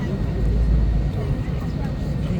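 An airliner takes off on a flight from Uttarakhand to Kolkata, heard from inside the cabin as a steady, heavy, low roar, with a person talking over it.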